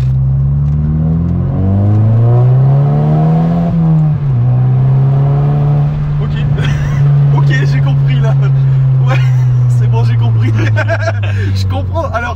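A Volkswagen Scirocco R accelerates hard, its engine note climbing then settling into a strong, steady drone heard from inside the car, with people talking over it.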